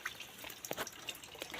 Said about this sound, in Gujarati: પાણી આજ તો થોડું થોડું આવે છે